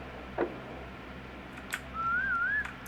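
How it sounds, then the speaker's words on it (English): A person whistles outdoors by a lake, a single rising and wavering note lasting under a second, preceded by a couple of faint clicks in a quiet setting. "Some whistling."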